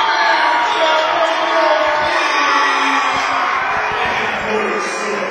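Dense crowd roar and cheering fill the gym at a Logan versus Chesapeake high school basketball game, a steady loud wash of voices with scattered shouts and a few sharp thumps, continuous throughout.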